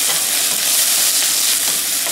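Chopped home-grown ginger sizzles and hisses steadily in a hot pan, a dense, continuous frying sound at close range with no voices.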